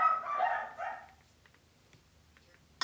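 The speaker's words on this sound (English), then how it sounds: "I think the dog's barking adds an authentic touch too." A dog barks close and loud in a short burst at the start, then falls quiet, with only faint background noise and a small click at the end.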